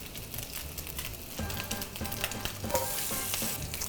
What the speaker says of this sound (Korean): 자, 그래서 강불에서 베이컨을 먼저 볶아주다가 여기 마늘 먼저 넣어줘요.